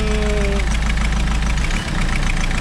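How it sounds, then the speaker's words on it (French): Swapped-in car engine idling steadily up close with a low, even rumble and slight knocking, running alone without talk. "Je vais juste m'assurer que le moteur tourne bien"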